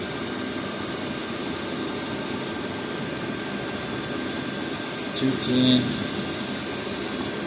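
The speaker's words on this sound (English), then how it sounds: "this is a cheap heater right here. We're cruising at 208 degrees Celsius on the internal engine." A cheap base-model Chinese diesel heater runs with a steady, even broadband whir and hum, close and constant throughout, while someone talks over it and a brief brighter tone briefly rises near the end.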